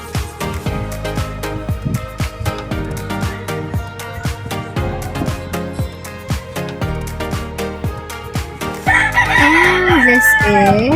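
Roosters on a small Filipino backyard chicken farm, with rhythmic music playing throughout and a loud, drawn-out crow rising near the end.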